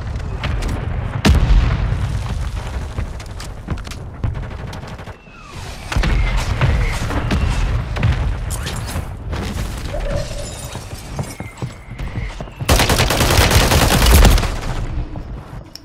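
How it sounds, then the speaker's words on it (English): Gunfire in Call of Duty: Warzone 2, with loud bursts of shots and sharp cracks coming in clusters, including a dense barrage near the end, along with impacts and mechanical clatter. "Bro, I'm getting shot from both ways, man."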